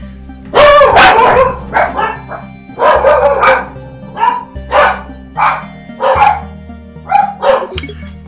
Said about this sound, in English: Dogs are just having a bit of a vent there.